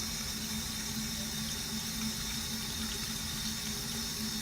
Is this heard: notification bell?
no